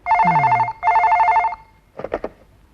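A telephone rings loudly and close by, two long trilling bursts with a pause between, followed by a short voice.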